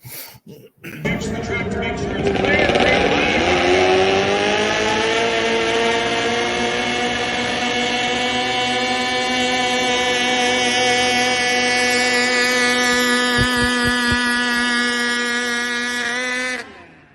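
A micro mini pulling vehicle's small engine revs up and holds a loud, sustained high-pitched whine with rising harmonics across the pull, then cuts off sharply at the end, with no talk over it.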